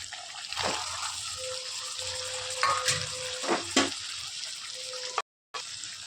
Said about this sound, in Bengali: এবার একটু ভালো করে নাড়ি চাড়ি নেবো সসের সাথে